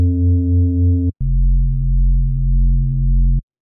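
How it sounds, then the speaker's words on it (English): An FM synthesizer tone built from two detuned sine waves in Ableton Operator sounds as two sustained, steady electronic notes, a short one lasting about a second and then a longer, lower one, loud and clean with no voices. "So you basically just have two sine waves with doing some FM"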